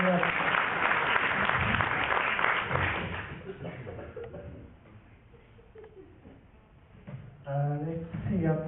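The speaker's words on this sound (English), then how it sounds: "Give her a round of applause, thank you very much." An audience at a magic show claps for a volunteer, loud applause at first that gradually thins and fades, followed by someone speaking near the end.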